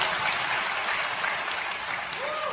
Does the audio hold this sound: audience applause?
yes